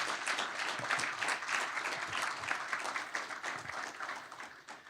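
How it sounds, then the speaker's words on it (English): An audience at a Purdue University College of Engineering town hall applauds faculty, a dense, steady round of clapping from many hands lasting several seconds. "So let's give a round of applause for the outstanding faculty."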